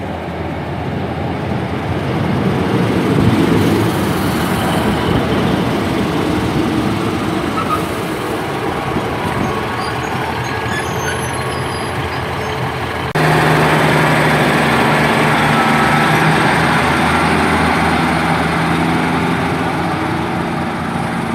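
Class 150 diesel multiple unit 150-236 rumbles into Cathays station on a service from Barry Island, a steady loud engine drone that deepens and grows heavier partway through as the train draws in close.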